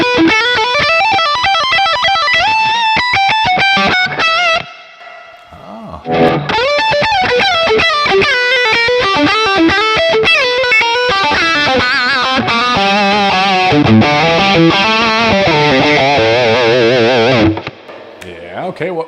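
Distorted electric guitar played through a BOSS Katana amp with delay and reverb, a steady run of sustained, echoing notes and phrases, close and loud, briefly pausing partway through.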